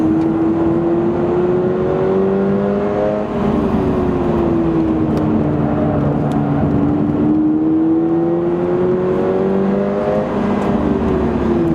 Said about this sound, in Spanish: El motor sube muy rápido de vueltas.